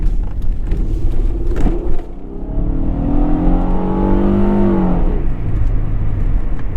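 A high-mileage Mitsubishi Galant being driven, engine revving up with a rising whine, briefly dropping at a gear change near the start, then climbing again and settling into a steady hum inside the cabin.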